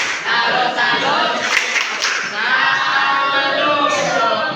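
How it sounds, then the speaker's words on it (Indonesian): A middle-school science classroom claps for a student group after their presentation, loud close rhythmic clapping from many hands that carries on steadily, with some voices mixed in. "Tepuk tangan untuk kelompok 5."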